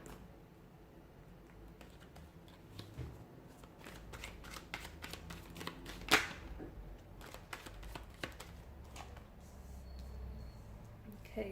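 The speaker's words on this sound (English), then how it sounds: "give the cards a shuffle and begin." Soft riffling and flicking of tarot cards being shuffled, with a sharper snap near the middle, steady and close over faint background noise.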